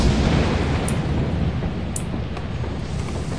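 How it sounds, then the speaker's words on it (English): Explosions in the video game Lethal Company, heard as a loud, continuous rumbling roar with a few brief sharp bursts riding on top. "Okay, like explosions."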